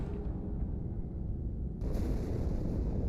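A blast erupts deep inside the ship Athens in Halo 2; after a low, steady rumble, a loud broadband explosion bursts in and keeps roaring for the rest of the moment.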